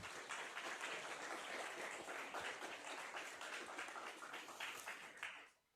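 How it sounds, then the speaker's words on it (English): A room full of people applauding a game jam team, steady dense clapping at a moderate distance that fades out abruptly at the end. "Another applause for them."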